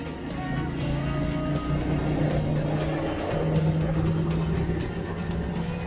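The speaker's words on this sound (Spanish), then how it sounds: "Otro carro de Ecuador, del Guayas." A car from Guayas, Ecuador, near a Peruvian customs control post, rumbles past with a steady, fairly loud engine drone and low hum throughout, rising slightly as it draws closest before easing off.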